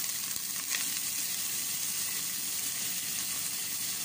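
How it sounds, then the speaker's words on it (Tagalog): Pressure-cooked beef sautés with garlic and onion in a pan for caldereta, a steady bright sizzle and crackle that stays even and fairly close, with no voices. "igisa ko na yung beef sa bawang at saka sibuyas"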